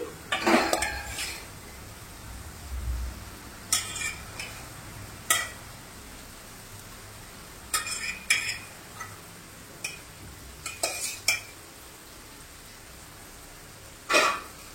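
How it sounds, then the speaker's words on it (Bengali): Prawns tossed with spices in a pan for a Bengali pointed gourd and prawn curry: a spatula clinks and scrapes against the pan in scattered bursts, close by, with no talking. "এখানে আমি চিংড়ি মাছটা দিয়ে দিচ্ছি"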